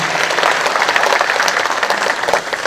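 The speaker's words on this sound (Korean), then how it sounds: "다시 한 번 더 힘찬 응원의 박수" Steady, dense applause fills the room at a civic rally in Yeongcheon supporting relocation of a military base, loud and continuous with no voices.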